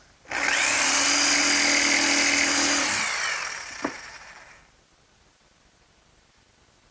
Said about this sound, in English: And now I'll just finish those cuts with my jigsaw.